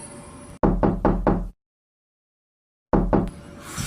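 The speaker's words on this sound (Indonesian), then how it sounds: "Terdengar suara ketukan pintu." Someone raps on a door with quick bursts of three or four sharp knocks, a pause of silence, then another short series of knocks, close and loud.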